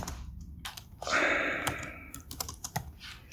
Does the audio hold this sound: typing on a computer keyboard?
yes